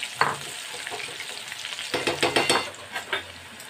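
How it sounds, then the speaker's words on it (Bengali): Corn coated in cornflour sizzles and crackles as it deep-fries in hot oil in a wok, with a few scraping stirs and light pops, close and fairly quiet. "এইভাবে আমি তেলের মধ্যে ভেজে নিচ্ছি।"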